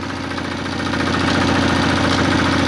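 The engine of a walk-behind tractor runs loud and close with a steady, throbbing idle and a faint rhythmic knock, alone without voices.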